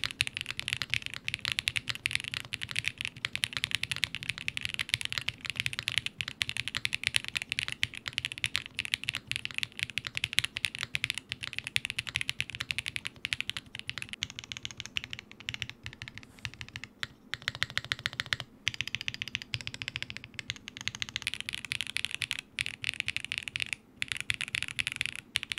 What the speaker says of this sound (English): To my surprise, it is actually more on the poppier and clackier side of the keyboard Acoustic Spectrum